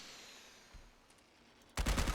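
Shoulder-mounted machine gun in Fallout 4 opens fire with a loud, dense burst of rapid shots in the final half second, after a quiet stretch broken by one faint low thump.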